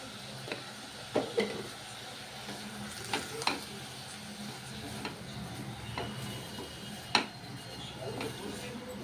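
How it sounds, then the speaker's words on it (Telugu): Chopped onions frying in oil with salt while a spoon stirs them, a soft steady sizzle broken by occasional scraping clinks against the pan. "కొంచెం ఆయిల్లో మగ్గనిద్దాం ఇది కొంచెం సాల్ట్ వేసుకుందామండి దీంట్లో తొందరగా మగ్గిపోతాయి ఉల్లిపాయలు"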